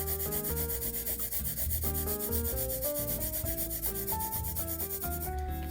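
Pencil shading rubs softly across paper in a continuous, even scratch, coloring in part of a portrait drawing, with steady music playing underneath throughout.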